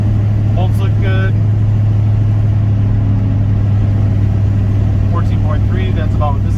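An OBS shop truck's engine drones steadily while driving, a loud constant low rumble filling the whole stretch, with a person talking over it in short bursts near the start and end.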